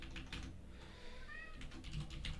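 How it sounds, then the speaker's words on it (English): A house cat gives one brief, faint, whining meow near a computer, with soft keyboard typing clicking before and after it. "my cat is whining."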